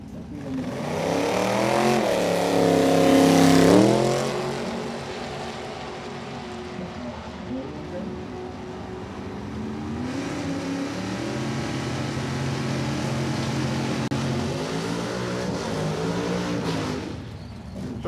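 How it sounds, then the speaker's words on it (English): Drag race cars make a single lap down the track at Norwalk, a rising engine roar peaking early as a car passes, followed by a steady distant drone of engines. "And it'll be a single lap down track for Chuck Ryan."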